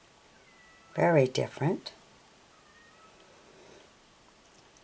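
A male cat shut out of a room meows a few times in a quick, wavering cluster, fairly close and loud over a quiet background, alongside a short spoken phrase.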